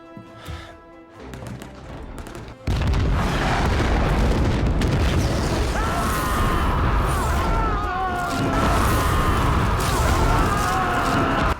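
A bomb blast at an oil refinery erupts with a sudden heavy boom that gives way to a sustained, loud roaring rumble and crackling, with faint wavering tones running over the continuous din.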